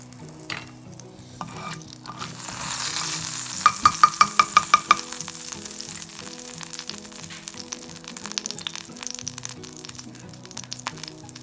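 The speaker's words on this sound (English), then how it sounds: "Once the mustard seeds have spluttered, it takes about 30 seconds for the first of the seeds to start spluttering." Mustard seeds crackling and popping in hot oil, a steady frying sizzle with a quick burst of sharp pops in the middle, close and fairly loud, with background music playing throughout.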